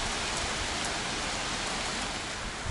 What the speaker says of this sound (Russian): И вот целый день такой дождь у нас сегодня с перерывами.